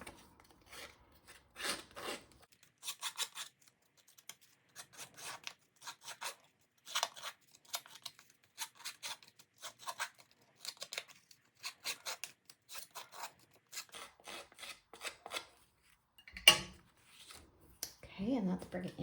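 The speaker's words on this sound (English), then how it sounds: "now I'm gonna take my snips and I'm gonna distress around the edges" Metal snips distress the edges of cardstock in a crafting session, with repeated short crisp snipping and scraping bursts in an irregular rhythm, close and fairly quiet.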